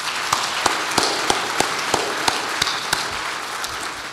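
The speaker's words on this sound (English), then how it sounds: "I'd like to start off by giving them a big round of applause," Keynote audience giving a round of applause: dense, continuous clapping with a steady, rhythmic pattern of sharper claps standing out near the mic.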